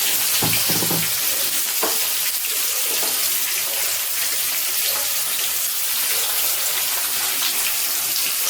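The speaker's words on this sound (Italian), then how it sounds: "la nonna Paola le sta friggendo piano piano." Sardines sizzle and crackle steadily in a hot pan, a dense, even hiss of frying throughout, with a few clinks early on.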